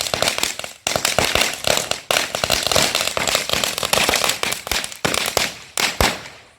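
Firecrackers bursting at a Diwali celebration: a dense, nonstop barrage of sharp, loud cracks and pops, close by, running for several seconds with only brief gaps.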